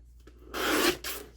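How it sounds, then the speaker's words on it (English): Scissors trim a thin paper strip for a woven journal card: a brief dry rasping snip, then a second short cut, close and quiet. "Just trim it off."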